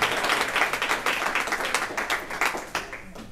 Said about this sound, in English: Give her a clap, guys